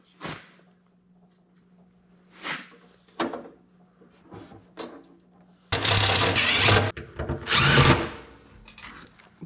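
A power drill driving screws into sheet-metal panels of a Carrier furnace during a secondary heat exchanger replacement: faint knocks and handling noises, then two loud, close whirring drill bursts.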